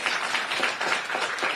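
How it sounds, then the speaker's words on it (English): Audience applause at a live event with Rahul Gandhi speaking to students in Texas, USA, a steady wash of many hands clapping at once, dense and moderately loud without a break. "Now you're clapping"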